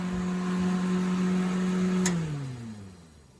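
The heater blower fan of an MG TF car hums steadily close by, then a click cuts it off and the whir winds down, fading lower in pitch.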